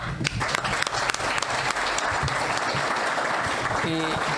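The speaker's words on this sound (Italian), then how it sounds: "a cui chiedo un applauso" Audience at a window-installation trade meeting applauds a colleague, Massimo Meggiolaro: loud, continuous clapping from a crowd, sustained throughout, with some voices mixed in near the end.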